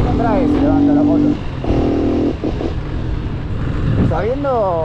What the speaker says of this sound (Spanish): Hola, sin embrague se levanta la moto.